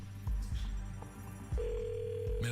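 A telephone rings on a French radio show's call, a repeating electronic ring pattern with a tone joining near the end, heard alone without talk.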